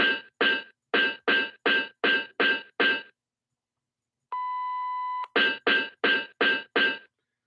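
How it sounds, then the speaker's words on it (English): A single flat censor beep, about one second long, covers cursing. It sits between two runs of rapid, evenly spaced sharp smacks. "which is why you got the censor beep"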